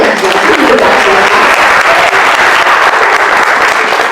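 Loud, dense applause from an audience at a children's art camp program, a steady wash of many hands clapping close by that fills the whole stretch without a break.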